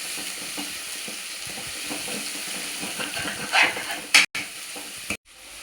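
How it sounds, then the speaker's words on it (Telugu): Turmeric masala for a fish curry sizzles and hisses in a pan while a spoon stirs it with soft scraping strokes, and a few sharp clatters come near the end. "చూడండి ఎంత బాగా ఫ్రై అవుతుందో"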